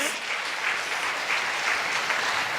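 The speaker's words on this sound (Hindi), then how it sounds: "एक बार जोरदार तालियां ये लोगों के लिए हो जाए।" A seminar audience applauds at an insurance sales meeting, a dense, steady patter of many hands clapping at once that holds evenly from start to finish with no talk over it.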